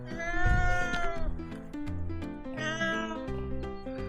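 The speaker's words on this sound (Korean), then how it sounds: "누가 이렇게 야옹거려." A cat meows outdoors in Gyeongju, South Korea, with two drawn-out, close meows separated by a brief pause and faint background noise.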